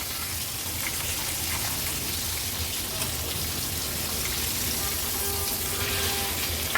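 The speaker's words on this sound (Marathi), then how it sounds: "हाय फ्लेम वर फक्त अर्ध्या मिनिटासाठीच आपण पापलेट हे फ्राय करत ठेवायचे आहेत" Pomfret frying in a pan over high flame, a dense continuous sizzle and crackle that sounds almost like steady rain, close and fairly loud throughout.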